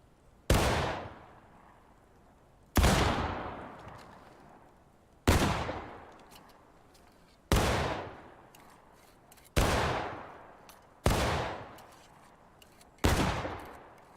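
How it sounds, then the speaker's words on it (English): A reenactor company, the 33rd Virginia, fires a rifle volley in ripple fire, shot after shot from right to left: seven loud, sharp cracks spaced about two seconds apart, each trailing off in a rolling echo, with no voices. "Ripple fire, right to left, 3 seconds, continuous."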